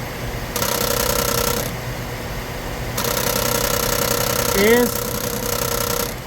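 A 2009 Chevy Silverado idles while a cracked plastic part by the shifter buzzes with a steady rattling drone that starts and stops in two long stretches, heard close under someone talking in Spanish.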